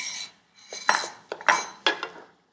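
Eggplant puree being stirred into a dish of Ottoman palace cuisine, a spoon scraping and clinking against the bowl in several short strokes, close up with no talk.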